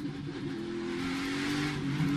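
A NASCAR race car on the Charlotte Roval road course, its engine note rising and falling steadily as the driver downshifts into a downhill corner while the car slides loose. The car is close and loud, with no talk over it.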